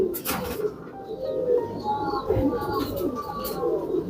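A Firozpuri pigeon coos in soft, repeated low calls close by, with someone talking over and between the coos.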